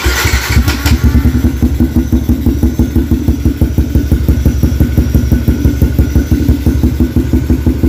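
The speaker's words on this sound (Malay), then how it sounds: "Enjin ni boleh dikatakan senyap" A Yamaha LC motorcycle with a converted clutch and large radiator idles close up, a steady rapid single-cylinder putter with a brief catch at the start, running evenly and loudly throughout.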